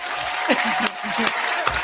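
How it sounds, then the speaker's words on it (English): Brief hand clapping breaks out during a relaxed conversation, a short burst of steady, fairly close claps with a voice talking over it. "Can I clap for that?"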